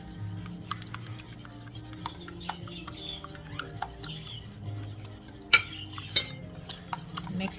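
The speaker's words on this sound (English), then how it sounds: "Mix it really well until all the egg yolks are all broken in" Three eggs and a cup of heavy cream being mixed for a crab quiche, a soft steady scraping and whisking against a bowl with occasional sharper clinks of the utensil, close and quiet.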